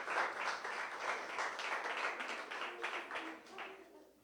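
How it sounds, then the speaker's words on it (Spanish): A church congregation claps in a short round of praise, the applause swelling at first and gradually thinning out toward the end, with a faint murmur of voices underneath. "Un aplauso para el Señor."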